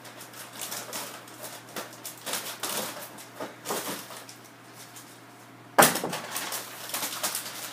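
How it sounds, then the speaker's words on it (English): Scissors cut open the corner of a cardboard cereal box: a run of crisp, close snips and crunches, then one sharp loud click partway through. "I'm going to take a pair of scissors and I'm going to cut this corner open."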